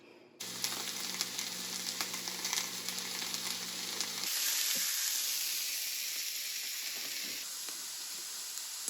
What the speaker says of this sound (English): I'm just sauteing some garlic and some butter until it starts to brown